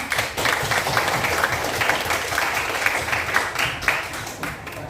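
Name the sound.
classroom applause for classmates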